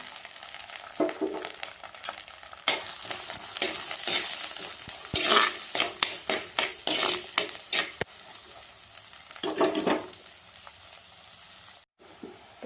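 Onion, curry leaves and dried red chilli frying in a pan for eggplant thokku: a bright sizzle with frequent spatula scrapes and light metallic clinks, close up and continuous, no voices.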